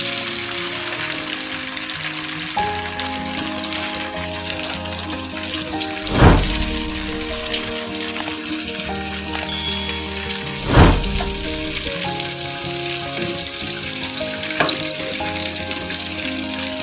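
Chicken leg pieces fry in hot oil on a tawa over medium heat, a continuous crackling sizzle with two louder bursts of spattering as pieces are moved.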